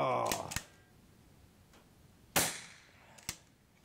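A Daystate Delta Wolf air rifle fires several sharp, crisp cracks with brief decaying tails, spaced over a few seconds and recorded nearby, with a faint click between shots.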